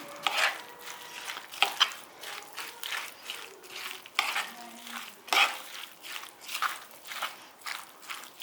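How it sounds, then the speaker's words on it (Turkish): A spoon stirs yogurt and olive oil into a salad, producing repeated soft wet scrapes and squelches in an uneven rhythm, close and fairly quiet with no talking. "Hemen iki kaşık daha yoğurt ekliyorum. bir miktar zeytinyağı ekliyorum. Ve karıştırıyorum."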